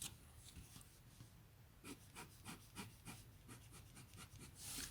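A Cross Bailey Light fountain pen with an extra-fine nib scratches across Clairefontaine Triomphe paper, giving soft, rhythmic rubbing strokes that come and go quietly and close up, with no talking.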